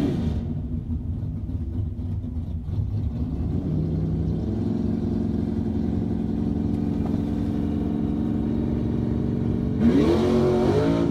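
A car at a drag strip revving and rumbling as it prepares to run, a deep steady engine drone building in pitch, with a louder burst near the end, heard from some distance.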